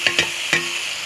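Spice masala sautéing in a pan with tomato and fried radish for a puti fish curry: a close, steady sizzle broken by three quick scraping stirs near the start.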